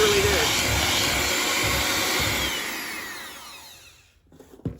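Whipped shea butter being beaten with an electric mixer: a loud, steady motor whir runs for about three seconds, then winds down and stops, leaving a few faint clatters.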